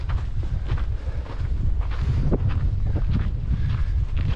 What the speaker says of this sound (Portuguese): Um bocado de vento.